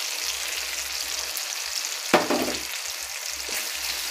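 Sautéed onions sizzle softly in a pan, then a sharp, loud hiss bursts out as a watery chili and turmeric paste is poured in, fading back to a steady fry for aloo kosha.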